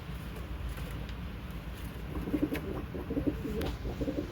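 Several soft, low pigeon coos repeating in a murmuring rhythm close by, over a gentle background hiss.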